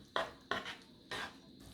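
Three quick scraping stirs of peppers sautéing in a pan, each a short bright burst with a faint sizzle between them, close by and with no voices.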